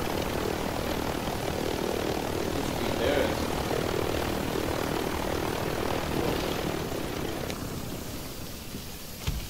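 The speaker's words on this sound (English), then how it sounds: "Okay, there's another chopper over here." A helicopter flies in the Call of Duty Warzone video game, giving a loud, steady engine and rotor drone mixed with dense game noise for the whole stretch.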